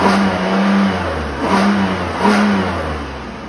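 A Chevy Impala engine revs in three rising, throaty bursts over a steady idle, each swell of the mid-frequency roar easing back before the next, loud and close with no talking.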